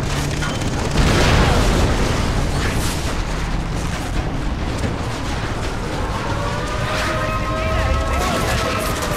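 Gunfire and explosions in the video game Far Cry 3 during an assault on oil depots: a constant, loud roar of booms and blasts with machine-gun rattle and a rising whine, and voices talking over it.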